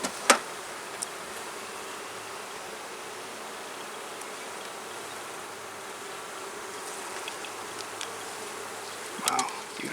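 A dense, steady buzz of many honeybees on a hive frame holding eggs and hatching brood fills the air up close, with a few brief clicks and knocks of handling near the start and end.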